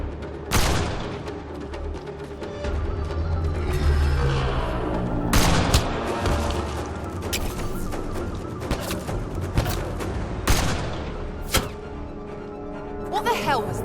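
Dense gunfire in the shooter Mass Effect Andromeda, with repeated loud bursts and booming impacts amid a sniper fight, while a character's voice shouts over the chaotic combat.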